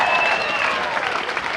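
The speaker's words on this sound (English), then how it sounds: "Give them another round of applause." Audience applause after a hospice dance performance, a dense steady wash of clapping from a crowd that carries on without a break, with some voices mixed in.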